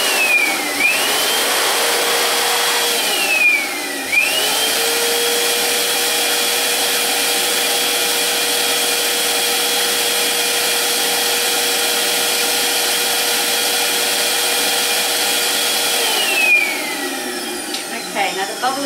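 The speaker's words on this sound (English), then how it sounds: "I'm just going to put my foot on the foot pump." A foot pump inflates a Qualatex Deco Bubble balloon around a foil balloon, producing a continuous loud rushing, whooshing air flow close by with a few brief pauses and pitch shifts near the start and end.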